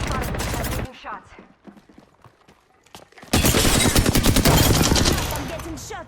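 Video game gunfire, a loud rapid automatic burst, then a near-quiet lull with scattered small noises, followed by a longer, dense, sustained barrage of close shots.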